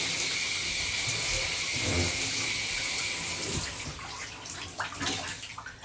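Steady hiss of tap water running while hair is soaked through, a continuous rushing wash that fades slightly toward the end, close and fairly loud.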